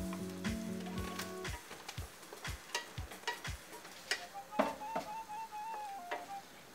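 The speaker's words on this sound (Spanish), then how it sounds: "coloco el pollo. Lo vamos a dejar también unos 3 minutos que se sofría" Chicken pieces frying in a pan for Chinese-style rice, with soft sizzling and scattered ticks and clinks of stirring, plus a few clearer knocks of a utensil against the pan, fairly close and not loud.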